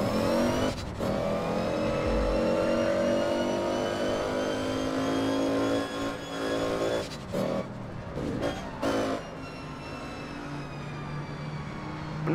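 Car engine in the online game APB Reloaded, a loud sustained drone with shifting revs and tonal whine, cut by a few brief dropouts and thumps toward the end.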